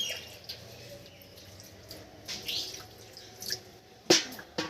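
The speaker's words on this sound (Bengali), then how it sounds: "এর মধ্যে আমি এবার জল দিয়ে দেবো" Water dripping and splashing over cut green jackfruit, quiet trickles with a few sharper close drips near the end, no talking.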